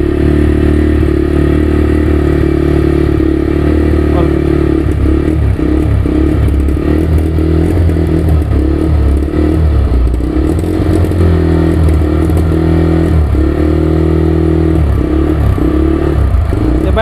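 TVS Raider 125 motorcycle engine running close by, a loud steady mid-pitched idle with slight throttle swells and mechanical clatter, heard alone with no talking.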